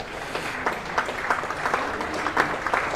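Light ripple of applause from a county cricket crowd at Glamorgan's home ground during a Championship match against Gloucestershire, scattered claps rising and falling over about three seconds at moderate distance.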